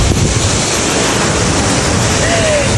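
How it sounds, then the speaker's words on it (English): Concord Falls, a large waterfall in Grenada, roars as a steady, loud, broadband wash of rushing water close by, constant throughout with no gaps. "It is quite a sight to behold and it's super freaking loud."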